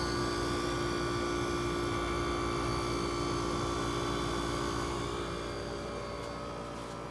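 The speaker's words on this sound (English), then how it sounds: "let's start the compressor. This has a Tecumseh AJ reciprocating compressor." A Tecumseh AJ reciprocating compressor in a 1967 GM Frigidaire refrigerator runs with a steady, loud droning hum and fine mechanical whine, close by and unbroken, with no talk.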